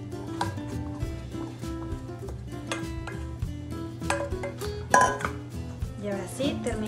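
Vegan brownie batter stirred in a bowl with a utensil, repeated close clinks and scraping taps against the bowl in an irregular rhythm, fairly quiet, with a voice speaking at times.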